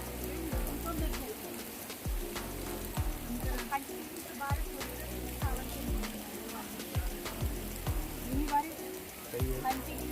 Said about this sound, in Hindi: धीमी बारिश, कंटिन्यू बारिश